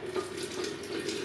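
Milk poured gently into a jar for homemade yoghurt in a home kitchen, a steady, soft liquid trickle close by, continuous and unbroken throughout.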